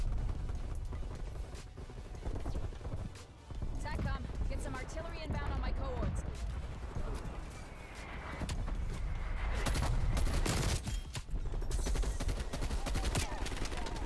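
Heavy battlefield din from a Black Ops first-person shooter: a dense, continuous barrage of booming impacts and rapid gunfire, loud and close, with bursts swelling toward the end and a voice speaking at times.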